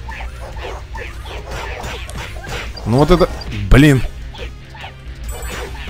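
Dogs in the Dan the Man platformer game bark and yelp in two loud, close bursts amid game sound effects, with someone talking over them.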